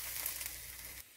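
Cabbage sizzles and crackles steadily in hot oil over medium heat, a close, even hiss that stops abruptly near the end.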